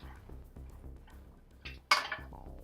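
Tofu goes into a pan with softened onions for a spicy tofu curry, with a soft low crackle of cooking, faint utensil scrapes, and one sharp metallic clink of a pan or spoon near the end.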